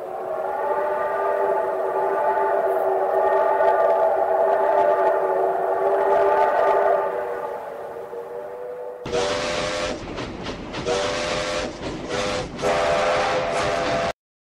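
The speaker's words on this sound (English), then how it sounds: "the train started to pull forward, sending a loud screech into the air" A train's steam whistle blows long and loud with a rich, wavering tone, then gives way to harsh, hissing screeches and clanks as the train pulls forward.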